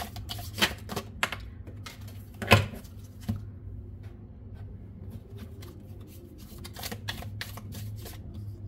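Tarot cards are handled during a reading: several close, sharp riffles and flicks of card shuffling and drawing come in short bursts, separated by quiet stretches over a low steady hum.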